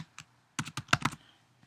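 Computer keyboard keys are typed while filling in an online passport application form, a few quick close clicks in two small bursts with a pause between, quiet and without voices.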